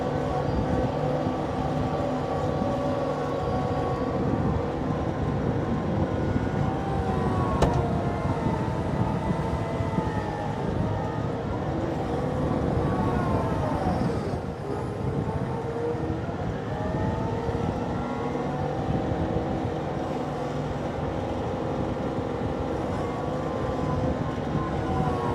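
A Kioti CK2610SE HST cab tractor with loader pushing into packed gravel, heard from inside the cab as a steady loud engine and hydraulic drone with a whining strain that shifts midway, continuous throughout, air conditioning running.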